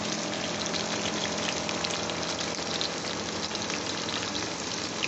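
Chopped onions fry in a pan of oil for chicken pulao, giving a steady, dense sizzle that holds at an even level throughout with no talking.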